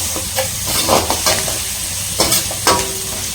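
Masala for idli podimas sautéing in a pan: a steady close sizzle with repeated scraping stirs of a spoon every second or so, no talking.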